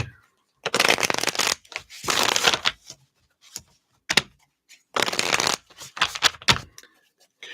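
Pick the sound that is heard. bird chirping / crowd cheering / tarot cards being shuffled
tarot cards being shuffled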